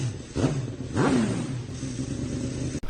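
A Ducati Multistrada 1260 Enduro adventure motorcycle in enduro mode accelerates hard, engine note rising sharply twice in quick succession through the gears, close and loud, over wind noise.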